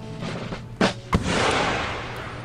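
Gunfire from friendly troops in Empire: Total War, with two sharp close shots standing out over a noisy battlefield din of scattered musketry and rumble.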